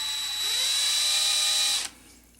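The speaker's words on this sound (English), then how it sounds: "I'm going to just ream it out very, very gently." A hand drill with a reamer runs gently in reverse inside a brass pen tube, giving a steady high whine for almost two seconds before it stops abruptly, leaving faint room noise.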